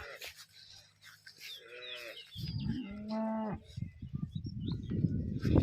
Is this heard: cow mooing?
yes